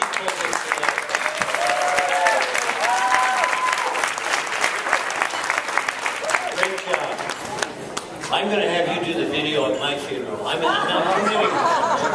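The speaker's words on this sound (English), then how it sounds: "Let's give a round of applause to uh, Andrea Palmer." An audience at a convention center breaks into steady applause, dense clapping mixed with chatter and a few chuckles, loud and continuous, with a brief dip before picking up again.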